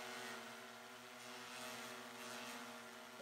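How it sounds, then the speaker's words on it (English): A DJI M210 drone hovers steadily in freezing cold weather around 5°F, giving off a continuous, fairly faint propeller drone with steady tonal whine throughout and no speech. "So that the aircraft is holding steady."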